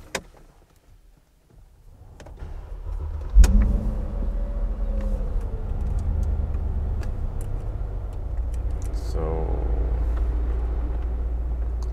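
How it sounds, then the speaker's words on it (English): A Mercedes G500 Cabrio Final Edition starting up, with a sharp crank-and-catch burst after a few quiet seconds, then a low, steady idle hum with faint clicks from the cabin. "Let me just start the car"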